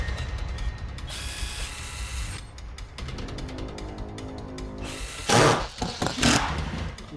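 A power drill works on a PC build, giving short whirring bursts and ratcheting mechanical clicks, loud and close, with brief pauses between runs.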